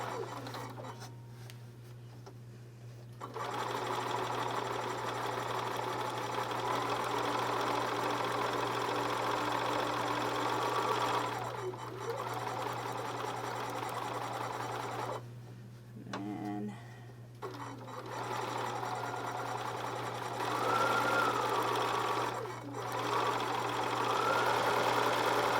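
A sewing machine runs in short, steady bursts as it stitches pieces of a quilt block, with pauses and soft handling between runs. The sound is quiet and heard up close.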